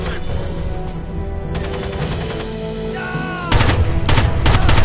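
A UMP submachine gun fires in Rainbow Six Vegas in several rapid bursts, the last one loud and sustained, with echoing shots and no speech.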